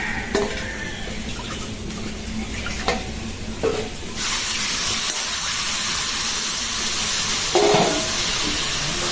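Water poured into a hot kadai for frying fish, a loud steady hiss that starts abruptly partway through and continues, with faint clatter of the pan beforehand.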